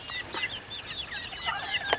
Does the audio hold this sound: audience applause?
no